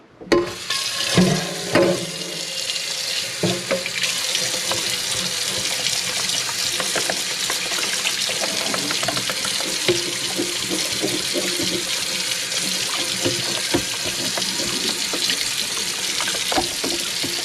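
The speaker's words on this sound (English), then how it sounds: "this pan can use a quick scrub down" Steady running tap water pours into a kitchen sink while a pan is scrubbed under it, with a few clanks early on and no one speaking.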